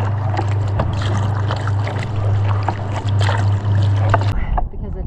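Paddling a boat across calm Lake Tahoe, with steady low water and hull sound running continuously and soft paddle swishes and drips close by, ending abruptly near the end.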